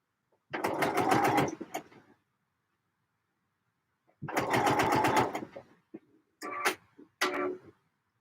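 A sewing machine stitches trousers in three separate runs, each a close, fast mechanical rattle, the first two longer and the last broken into short bursts, with silence between them.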